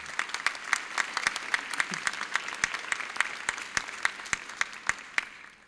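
An audience claps for an award recipient at a dental school white coat ceremony, a steady indoor round of applause with distinct sharp individual claps standing out, fading toward the end.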